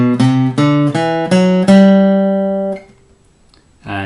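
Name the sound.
major scale played on guitar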